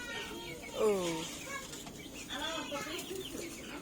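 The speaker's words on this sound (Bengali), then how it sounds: "পাখি তুমি তো মুরগিরে খাওয়াচ্ছো" Chickens being fed in a village yard, with a couple of short clucking calls rising briefly over quiet rustling and a faint background murmur.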